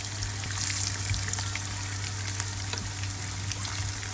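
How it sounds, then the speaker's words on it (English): Food sizzles and crackles steadily in a hot pan, a continuous bright hiss with scattered pops over a low background hum. "Just fry them slightly so they get a little bit nice brownish color."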